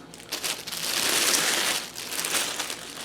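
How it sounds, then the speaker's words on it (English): Rifle scope being drawn out of a plastic bag, the thin plastic crinkling and rustling steadily for a few seconds up close, with no talking. "let's take it out of the plastic bag"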